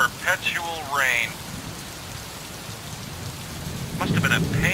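Perpetual rain from the video game Gemini Rue hisses steadily in the background while voices speak over it at the start and again near the end.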